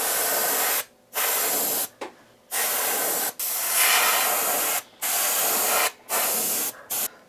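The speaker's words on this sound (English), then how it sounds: "put a little bit of this metallic yellow along the lower quarter of the lure, and I'm going to have it fade upwards just a little bit overspray" Short bursts of spray paint hiss as metallic yellow is sprayed onto a bamboo and brass lipless crankbait lure, close and steady, with about seven spurts separated by brief pauses.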